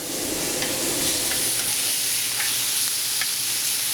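Beef for stroganoff sizzles steadily in a skillet, a dense continuous frying hiss with occasional small pops and crackles, close and with no talking.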